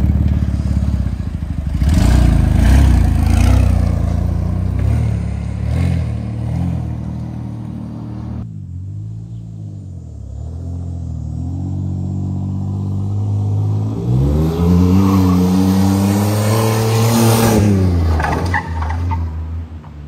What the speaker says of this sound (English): I just shifted right down in the first and grabbed some high RPMs there